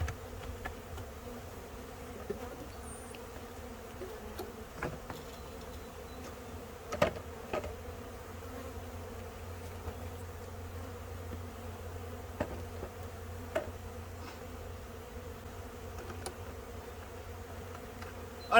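Packaged honeybees swarm and buzz at an open hive during installation, a soft steady drone with occasional closer buzzes and light bumps, no talking.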